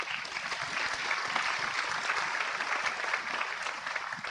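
Steady audience applause fills a hall at the opening ceremony of the Global Biodiversity Alliance Summit 2025, a dense, continuous wash of clapping at moderate level with no voices on top.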